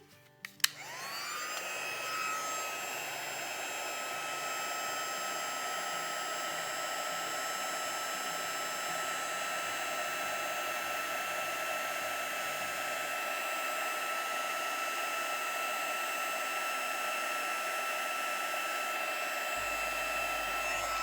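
A heat embossing tool blows over a stamped card, starting with a click and then a loud, steady fan-like roar with a high whine that continues unbroken, close by and with no talk.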